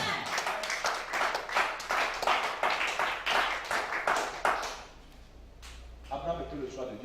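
A congregation at a church service breaks into rhythmic applause, dense steady clapping that fades out before a voice speaks near the end.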